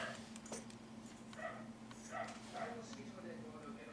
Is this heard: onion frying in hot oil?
no